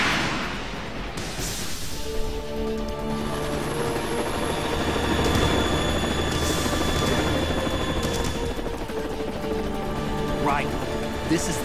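A Harrier jet attacking in the Metal Gear Solid 2 video game, a loud sustained roaring engine drone with rising and falling intensity, layered with game music and voices talking over it throughout.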